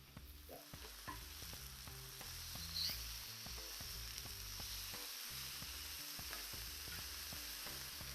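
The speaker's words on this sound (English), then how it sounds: "that sizzle going. Boom, all the marinated stuff." Marinated skirt steak for carne asada tacos sizzles and fries steadily on a Blackstone griddle, a close, continuous hiss with scattered pops and the tap of a spatula, no voices.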